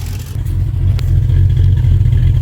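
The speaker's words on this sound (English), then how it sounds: "I hear exhaust leak, but it sounds like it's ahead of the muffler." A 1989 Jeep Cherokee XJ engine with an exhaust leak ahead of a Flowmaster 50 muffler, idling roughly and rising in a rev, with a loud low rumble and a rattly, puffing exhaust tone.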